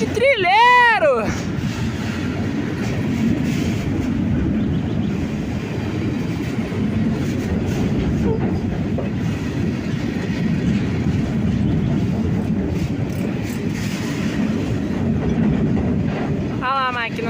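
A GE C30-7 diesel locomotive hauls a RUMO freight train past on rails, a loud continuous rumble of wagons and clickety-clack wheels, opening and closing with a sweeping horn-like tone and voices talking over it.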